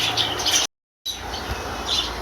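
Pigeons at a busy village pigeon market give off scattered chirps and calls at middle distance, briefly cut by a moment of silence before the bird sounds resume.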